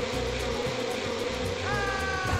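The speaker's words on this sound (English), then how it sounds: "Are those bees?" Bees buzz loudly in the PS2 video game Peter Pan: The Legend of Never Land, a dense continuous droning hum over game background sound.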